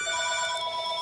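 A telephone bell rings steadily and loud, its bright sustained tones filling the whole second with no voices over it, heard in a home workshop during acid etching work.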